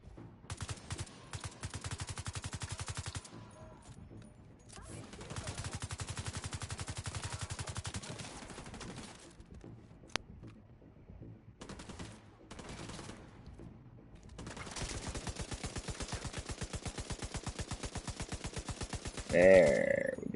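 Light machine gun and rifle fire from the video game The Division 2 comes in long sustained bursts, loud and close, broken by brief pauses and closing with a sharper burst.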